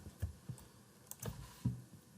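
Soft keystrokes on a computer keyboard, a handful of quiet, uneven taps and clicks in a short burst, close and faint with no talking.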